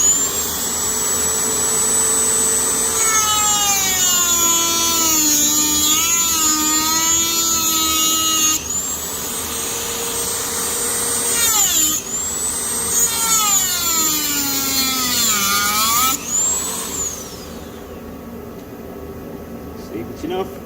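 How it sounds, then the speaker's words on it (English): A Dremel rotary tool cuts slots into old bolts on an Alfa Romeo GTA, its high whine rising and falling with load in several long passes separated by short pauses, loud and close. "I'm going to get my Dremel on them, cut a nice slot in there"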